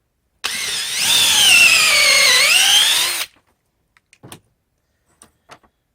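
A power drill bores into a log to make the hat of a log snowman, one sustained whining, rising-and-falling run of nearly three seconds, loud and close, followed by a few faint knocks and clicks.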